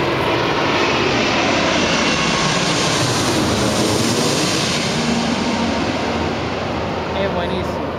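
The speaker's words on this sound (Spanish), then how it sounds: "Mirá cómo viene, es un pájaro esa cosa. Un avión." A loud, close airplane engine roars continuously, a broad steady rumble that fills the whole stretch as the aircraft passes overhead.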